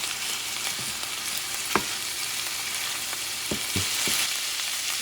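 Chorizo frying in a pan, with a steady broadband sizzle and a few scattered knocks of a utensil breaking up the meat.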